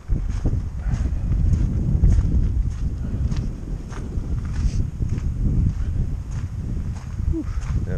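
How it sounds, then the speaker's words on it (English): Chilly wind gusting across a campsite along the Appalachian Trail, a steady low roar buffeting the microphone throughout with faint footsteps underneath. "that wind, it's kind of chilly"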